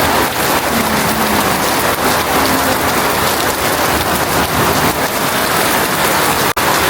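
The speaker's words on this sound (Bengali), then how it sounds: "মুষলধারে বৃষ্টি হচ্ছে, পানি জমে গেছে" Heavy torrential rain pours steadily outside a house where water has pooled at the front, a loud, dense, continuous hiss with no voices over it.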